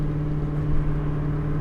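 Supercharged 400-horsepower Foxbody Saleen Mustang engine while driving, a steady loud low drone with a strong constant tone, droning on alone without changes in pitch.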